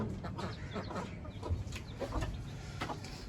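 A rooster and hen clucking close by, with short repeated clucks scattered over a few seconds against a busy, noisy background.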